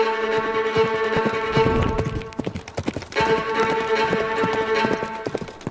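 Horse hooves clip-clopping at a steady walking rhythm in the Andalusia countryside, close and fairly loud, with faint tonal background sounds and no talk.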